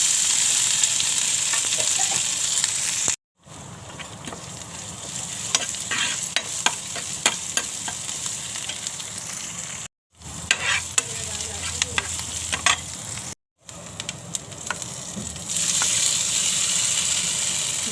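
Cumin, chillies, curry leaves and ginger-garlic paste sizzle in hot oil, a loud, close, continuous frying hiss with crackles and stirring clicks, broken by a few brief cuts to silence.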